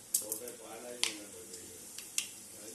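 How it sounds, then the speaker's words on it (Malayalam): Mustard seeds crackle in hot coconut oil with a handful of faint, sharp pops spaced unevenly over a soft sizzle, while a voice speaks quietly nearby. "കടുക് പൊട്ടി, കടുക് നല്ലതുപോലെ പൊട്ടിയ"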